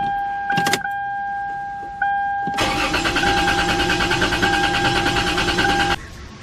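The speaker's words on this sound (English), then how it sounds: "Now with that, we're going to start the car." A 2000 Toyota 4Runner with a newly replaced fuel pump is started: a key-on chime and brief clicks come first, then the starter cranks and the engine catches into a loud, close idle before cutting off.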